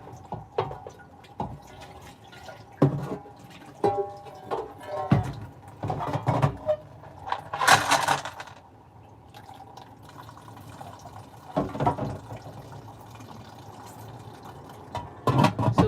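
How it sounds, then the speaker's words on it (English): Water from a tap runs and splashes into a container in a home kitchen. It comes in irregular gushes and trickles with drips and sloshing, close and moderately loud. "Oh, why is my water running like this now?"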